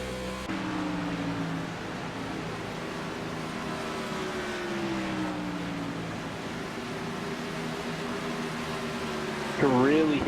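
Engine drone with long wavering tire squeals rising and falling as an Xfinity Series race car works through corners at Chicagoland, ending in a sharp warbling squeal.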